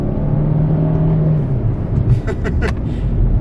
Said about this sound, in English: This is half throttle.